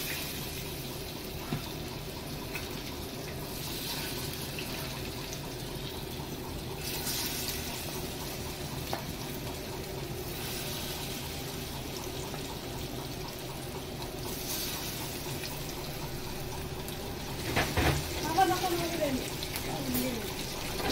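Jitada fish frying in very hot oil, giving a continuous soft sizzle and hiss with a burst of louder crackling near the end.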